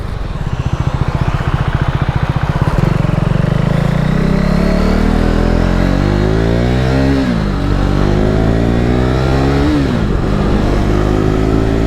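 A KTM RC390 motorcycle fitted with a Yoshimura Alpha-T slip-on exhaust idles with a loud, throaty rapid putter, then revs up and down in rising and falling sweeps, close and dominant throughout.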